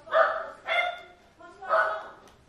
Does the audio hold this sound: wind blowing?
no